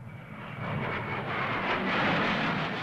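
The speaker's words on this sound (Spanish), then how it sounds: "por orden del general Pinochet, aviones Hunter británicos descendieron en picado sobre el Palacio Presidencial de la Moneda" British Hawker Hunter jet aircraft diving, a loud continuous broadband engine roar that swells slightly and holds steady throughout, with no voices.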